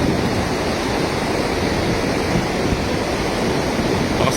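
Strong river current rushes past where a cast net is being thrown, a close, loud, constant roar of churning water mixed with wind noise that holds steady throughout.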